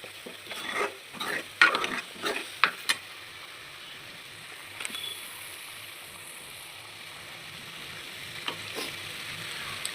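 Masala roasting in oil in a pan sizzles with bursts of crackle and stirring scrapes early on, then settles into a quieter, softer hiss with occasional pops.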